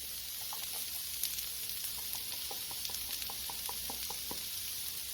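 Smash burgers sizzle on a hot cooking surface, a faint steady hiss dotted with quiet taps and knocks of a utensil.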